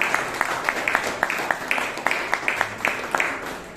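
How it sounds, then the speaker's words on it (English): Round of applause at a Bangalore Toastmasters meeting, steady rhythmic clapping from a small group of people, moderately close, with a few louder individual claps standing out. "Let's have a big round of applause for that."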